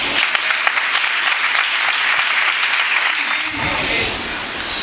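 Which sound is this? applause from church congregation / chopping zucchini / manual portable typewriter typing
applause from church congregation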